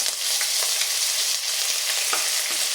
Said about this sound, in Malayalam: അപ്പോൾ നമ്മുടെ വെളിച്ചെണ്ണയൊക്കെ ചൂടായിട്ടുണ്ട് അതിലേക്ക് നമുക്ക് ചതച്ച് വെച്ച ഇഞ്ചി ചേർക്കാം